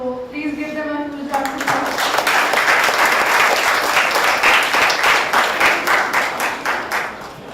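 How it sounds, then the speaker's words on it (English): An audience applauds student presenters at a startup talk, a dense, sustained burst of clapping that swells after a brief moment of speech and continues steadily for several seconds, close and loud. "please give them a huge round of applause"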